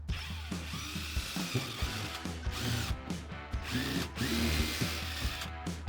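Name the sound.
power drill drilling a pilot hole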